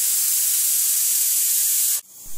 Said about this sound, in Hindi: मसूर की दाल पकने में 3 व्हिसिल इनफ होता है